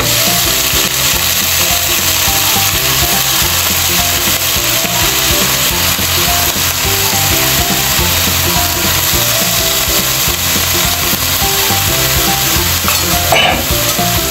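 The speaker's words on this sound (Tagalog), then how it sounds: "Lutuin muna natin yung repolyo. Ayan, next natin tong repolyo guys." Shredded cabbage with fishballs stir-fries in a hot pan, a loud, constant sizzle overlaid with rhythmic scraping from the spatula throughout, with no voices.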